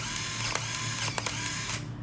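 Mechanical clicks and a ratcheting snap as the back of an Olympus AF1 Twin film camera is closed and locks, set against a steady background hum.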